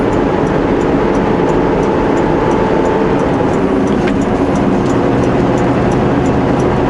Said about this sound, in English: We were basically climbing from the Bear Shed Hill here in 8th gear